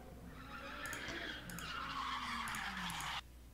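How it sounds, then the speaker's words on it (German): Tires of a luxury car skid and squeal across the pavement during a crash, a sustained loud screech with the engine beneath it that breaks off abruptly near the end, with no voices. "Most expensive failed best of luxury car crash compilation"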